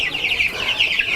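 Day-old to two-week-old broiler chicks crowd a brooder, their high, rapid peeping and cheeping rising and falling in a dense, continuous chorus close by for just over a second.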